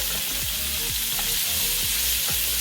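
Shrimp skewers sizzling steadily in a hot pan as they are turned, with a loud, dense frying hiss and a few soft scraping knocks. It is close and has no talking.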